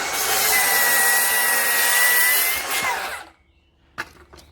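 A circular saw cuts through the end of a wooden deck joist with a loud, steady whine that drops away after about three seconds, followed by a couple of faint knocks.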